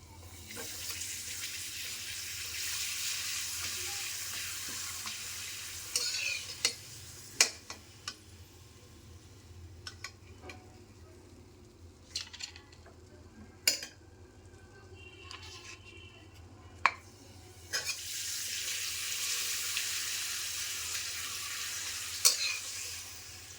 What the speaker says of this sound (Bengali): এরপর আমি পাঁপড়গুলো এক এক করে ভেজে নেব।